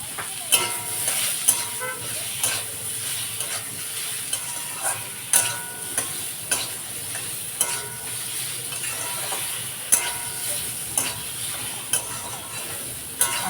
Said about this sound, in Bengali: আমটা ভাজা ভাজা একটু হয়ে যাক